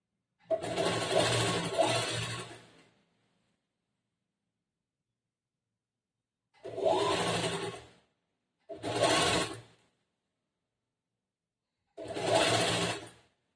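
A tailoring sewing machine stitches fabric for a long umbrella frock in four bursts of rapid whirring, the first long, then three shorter runs separated by silences, close and clear.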